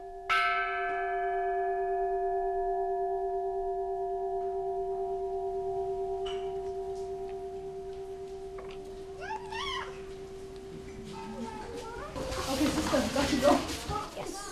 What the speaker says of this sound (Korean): When you hear the bell, you stop.